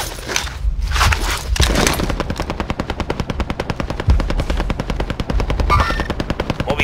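Gunfire in the video game Call of Duty Warzone: loud, rapid machine-gun bursts with a steady rattling rhythm that fills most of the stretch after a few heavier opening shots.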